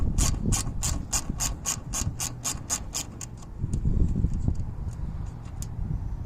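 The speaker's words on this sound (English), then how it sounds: "I didn't have a 3/8 drive one to fit my electric ratchet" An electric ratchet backs out 8mm taillight screws with a fast, even run of sharp metallic clicks that slows and thins into scattered ticks, over a low motor hum with no one talking.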